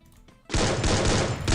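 Rapid gunfire bursts loudly in a video game, a dense, sustained volley of shots kicking in after a brief quiet start.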